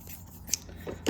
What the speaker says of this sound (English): now I'm going to get scissors and trim